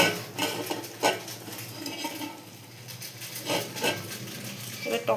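Tomato being stirred with chicken in a pan, giving soft intermittent scraping and clinks of a utensil against the cookware, a few louder strokes standing out over a faint steady background.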